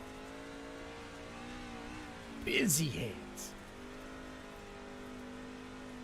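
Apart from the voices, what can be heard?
race truck engine throttle on corner entry at Eldora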